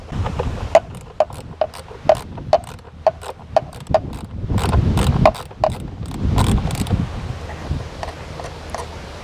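Ratchet wrench loosening air filter housing bolts on a Renault Megane, a run of sharp evenly spaced clicks followed by rustling and handling noises close up, no talk.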